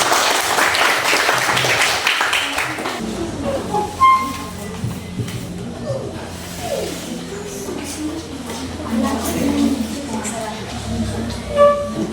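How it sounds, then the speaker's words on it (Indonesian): A classroom breaks into clapping, a dense burst for the first few seconds that quickly dies away, followed by a rumbling background and an adult voice speaking. "Tepuk tangan untuk memuliakan Tuhan"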